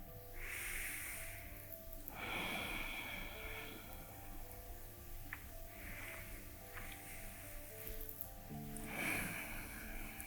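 Deep yoga breaths, slow inhales and exhales repeated in a steady rhythm, close and soft, with a hum of background music underneath and no talking.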